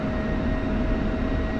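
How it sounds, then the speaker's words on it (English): An F/A-18 Hornet jet taxis in the DCS flight simulator, its engine a steady, close whine and rumble that holds at constant loudness throughout with no talk over it. "Taxing to the runway."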